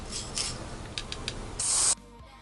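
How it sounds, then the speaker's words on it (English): A few short hissing bursts of spray onto a cake are followed by one steady, louder spray lasting about a third of a second, then quiet. "we're spraying it one more time"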